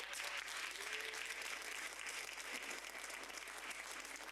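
Conference audience applauding steadily, dense clapping sustained and evenly loud throughout, with no voices breaking through.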